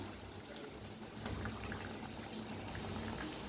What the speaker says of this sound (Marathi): खूप छान तळायला लागलेलं आहे मस्त